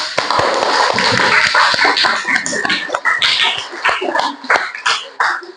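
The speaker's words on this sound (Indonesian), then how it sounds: "Silakan berikan aplaus untuk kita semua." A junior high classroom of eighth-grade students breaks into lively, scattered applause: a dense, fairly loud patter of many hands with sharper individual claps and a few voices mixed in.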